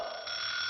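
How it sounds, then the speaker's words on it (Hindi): An alarm clock rings in the morning, a loud, steady electronic tone that holds without a break and brightens partway through, with no voices over it. "अरे सुबह सुबह ये अलार्म क्यों बजने लगा?"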